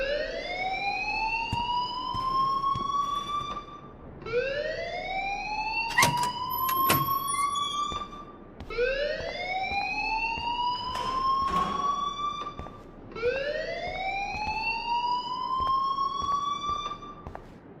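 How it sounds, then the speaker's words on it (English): A rising, wailing fire alarm in the video game Life is Strange Remastered repeats in four long sweeping cycles, loud and steady, with brief clatters between sweeps. "please turn off that alarm since that's your job"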